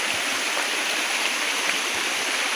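Kagbuho Waterfall pours in a steady, loud, close rush of falling water, a dense continuous roar with no voices over it.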